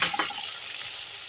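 Onions dropped into hot oil in a pan, a loud steady sizzle and crackle close by, no voices.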